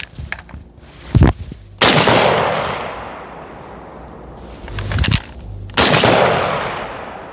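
An SKS rifle fires outdoors, a few loud, sharp cracks spaced seconds apart, each one followed by a long fading echo, close to the listener with no talking.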